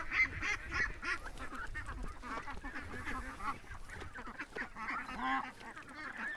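Little duck quacking and honking in an outdoor pen, several short calls overlapping with other fowl amid busy background noise, fairly quiet and at moderate distance.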